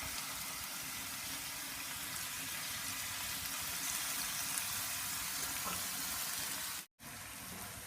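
Orange pulp fries in ghee in a pan, a steady close hiss of sizzling that runs evenly with faint stirring, cut by a short silent gap near the end, with no talk.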